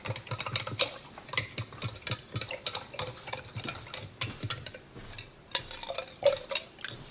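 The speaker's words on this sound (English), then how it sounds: "I'm just going to give this a stir, kind of get that salt dissolving." A spoon stirs briskly, dissolving salt into water for radish brine, producing rapid irregular clinks and scraping taps against the container sides, close and continuous.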